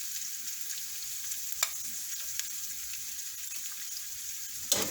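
Broccoli with green and red peppers sautés in a pan, giving a steady, quiet hiss of sizzling that runs evenly throughout, broken by a couple of faint utensil clicks.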